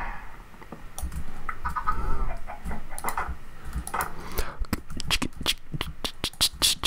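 Minecraft chickens clucking in a farm pen, a string of short bird calls over game background sounds, with sharp clicks and taps growing denser toward the end.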